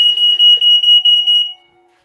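A USA smoke detector under test sounds a shrill, piercing electronic beep in rapid repeated pulses for about a second and a half, then cuts off abruptly.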